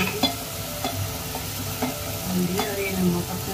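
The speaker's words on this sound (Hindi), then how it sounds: "घर के अदरक लहसुन का पेस्ट डालते हैं इसको, भुना ही करेंगे" Ginger garlic paste and spices sautéing in a pot, a steady close sizzle punctuated by regular spatula scrapes and taps against the metal.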